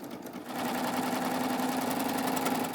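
A Baby Lock Triumph serger stitches a belt loop, a steady close mechanical whirr with rapid rhythmic needle ticking that starts after a short quiet lead-in and runs continuously.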